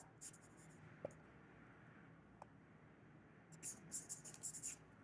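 Pen strokes writing out a math solution: faint, close scratching with a few short bursts early on, then a quicker run of strokes near the end, in a quiet room.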